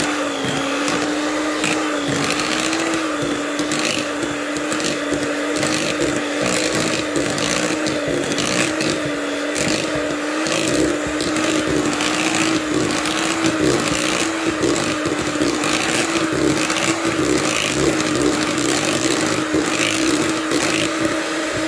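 A loud electric hand mixer or blender whirs steadily, beating six overripe medium bananas into banana walnut cake batter. The steady motor hum runs unbroken from start to finish with no talk over it.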